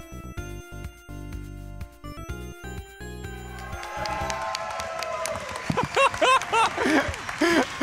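Tonal game music gives way to a live audience at Awesome Games Done Quick 2018 applauding and cheering, with scattered chuckles, as a voice begins talking over the crowd noise.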